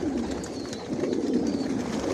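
Racer pigeons and their young squabs coo in a loft, a continuous low, throaty murmur of several birds close by, with faint higher squeaks layered over it.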